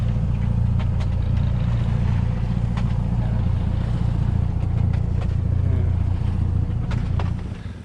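A sailboat motors at sea under its engine, a steady low droning hum with water noise, near and continuous, fading slightly at the end.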